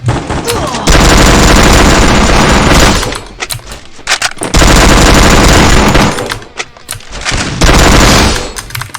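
Rapid automatic gunfire in a shooter video game while the player character jumps, loud dense bursts of several seconds each separated by short pauses, with quieter effects between.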